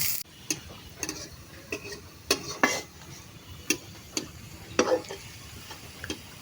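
Dried chillies, onion and garlic frying in oil: a faint, quiet sizzle under sharp, irregular clicks and scrapes of a spoon stirring in the pan, close by and without voices.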